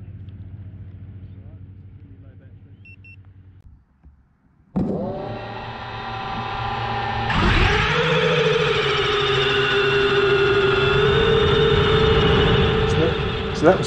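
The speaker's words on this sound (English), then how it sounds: "So that was the sound of the wobble on 3S using the pointy nose prop." A small quadcopter drone on a 3S battery with pointy-nose triblade props gives a loud, steady, buzzing whine that jumps sharply in pitch and intensity midway and holds a wobbling high drone until the end, after a brief dip near the start.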